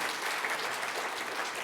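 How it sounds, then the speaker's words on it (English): Audience applause at a conference talk, a steady dense wash of many hands clapping throughout, moderately loud and continuous with no talk over it. "give Dave a round of applause"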